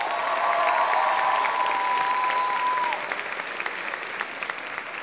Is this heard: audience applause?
yes